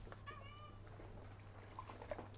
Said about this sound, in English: She's back in, the kitten.